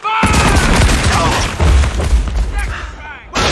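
Cannon fire in a pirate battle scene from the TV series Black Sails: loud booming blasts and crashing impacts fill the clip, with a brief break near the end, and shouting voices mixed underneath.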